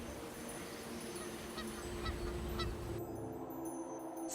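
Colony of bar-headed geese honking restlessly, a steady murmur of many calls at middle distance with a few sharper honks standing out over a constant low rumble, the background dropping slightly near the end.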